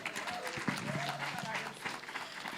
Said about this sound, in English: Let's give Dr. Fuller another round of applause.